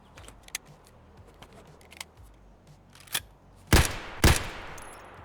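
Escape from Tarkov in-game sounds of tracer rounds being top-loaded into a magazine: a scatter of sharp metallic clicks, ending in two louder, heavier clacks near the end, with no talking.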